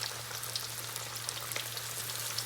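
Chicken cutlets fry in hot oil in a pan, giving a steady, dense crackling sizzle with a low hum underneath and no talking.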